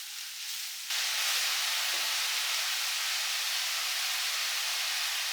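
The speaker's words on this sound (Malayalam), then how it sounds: "നമുക്ക് ചീര അത് അരിഞ്ഞത് നല്ലപോലെ വഴറ്റി വെക്കുന്നുണ്ട്" Chopped spinach sautéing in a pan gives a loud, steady broadband sizzle that jumps in abruptly after a second and holds evenly throughout, with no talking.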